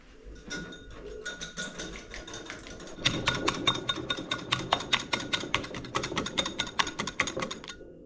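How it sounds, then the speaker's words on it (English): Four egg yolks whisked in a bowl until creamy, a fast, steady clicking and tapping that grows louder and more vigorous after a few seconds and keeps an even rhythm, with no talking. "we're going to take our 4 egg yolks and mix them until they get creamy"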